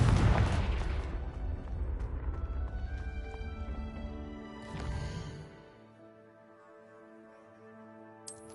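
Confringo spell explosions in Hogwarts Legacy, a burst of deep booming blasts at the start followed by a second boom near five seconds, then fading rumble under tonal game music.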